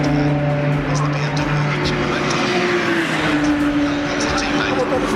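Race cars, among them a McLaren and a BMW, roar around the Snetterton circuit, a loud sustained engine drone with shifting pitch as they run close together, under excited commentary.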